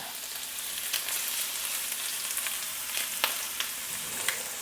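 Scallops sear in a Mauviel copper pan, making a close, even sizzle with occasional sharp pops and spits rising above the steady hiss.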